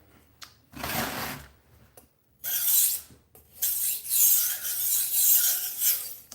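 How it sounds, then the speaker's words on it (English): A budget knife blade is drawn across a sharpener in a series of close, gritty rasping strokes, each lasting about a second with short pauses between. "Sharpening it like an axe"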